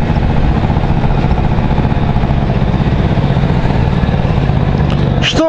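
A moped engine idles close by, a steady, unbroken low chugging that runs the whole time, with a brief higher whine near the end.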